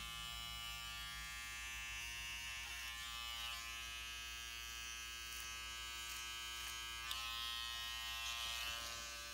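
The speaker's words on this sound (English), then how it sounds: "Then you want to go to your clipper over comb." Electric hair clippers buzz steadily through a clipper-over-comb cut on a tapered neckline, a close, constant hum with small shifts as the blade moves through the hair.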